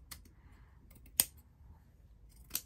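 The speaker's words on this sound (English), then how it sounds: "Just going to cut a piece of that off." Scissors snip through a piece of lace while a journal cover is being decorated: two crisp, close cuts about a second apart in an otherwise quiet room, with no talking.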